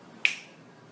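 A single crisp finger snap from a magician performing a card trick, sharp and close against a quiet background, with a short fading tail.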